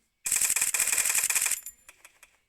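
Rapid automatic gunfire in a 4v4 ranked shooter video game: a loud burst of about a second and a half of tightly spaced shots, followed by a few scattered single shots that fade out.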